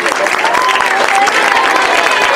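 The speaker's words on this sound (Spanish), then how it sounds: "Piden un aplauso para él." An audience at a year-end award ceremony applauds, a loud, dense, steady clapping throughout with a voice faintly audible beneath it.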